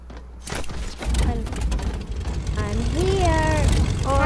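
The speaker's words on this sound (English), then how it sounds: "I'm going to grab an airplane and then I'm going to fly to you" An airplane flies in Fortnite, giving a steady droning engine hum throughout, with a player talking over it partway through.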